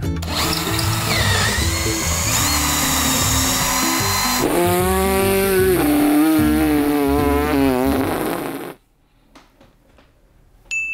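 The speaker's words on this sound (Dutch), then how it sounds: "Die boor moet groter." A power drill whines loudly and continuously, its pitch wavering as it bores through material, then cuts off abruptly, leaving near silence.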